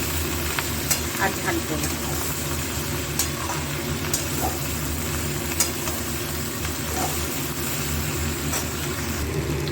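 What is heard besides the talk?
vegetables frying in a pan on medium-low flame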